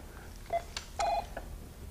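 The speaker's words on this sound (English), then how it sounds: "we've got another phone call" Telephone tones sound during a morning radio phone-in as a listener's call comes through, a few short beeps and a longer tone in quick succession, moderately faint and alone without talk.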